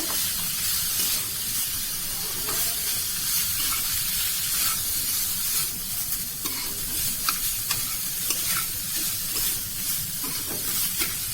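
Coconut with whole spices and sugar fries in a little oil for a kachori filling, giving a close, continuous sizzle broken by steady stirring scrapes, with no talking.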